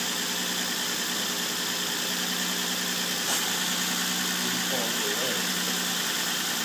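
Engine of a 2005 Nissan Altima SE-R fitted with a Red Lion Racing intake runs continuously nearby, a dense steady drone with a slight swell partway through rather than a sharp rev.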